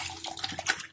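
Water poured into a pan for a sweet red chutney, a brief splashing, gurgling pour that runs close and fairly steady for about a second.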